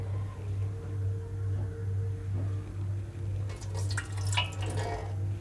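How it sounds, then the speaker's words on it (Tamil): About half a glass of water is poured into a heated pan on the stove for jaggery syrup, faint trickling and splashing over a steady low burner hum, becoming briefly louder toward the end. "ஒரு அரை கிளாஸ் தண்ணி ஊற்ற போகிறோம்"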